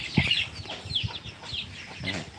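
Fighting roosters on a rural farm give a few soft, short clucks, faint and somewhat distant, with no talking.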